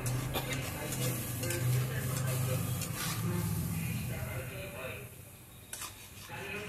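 A spatula stirs and scrapes masala frying in oil in a pan for a Bengali cauliflower and egg curry, with repeated scraping strokes over a steady close sizzle.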